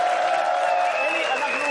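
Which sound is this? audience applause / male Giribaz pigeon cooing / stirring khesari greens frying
audience applause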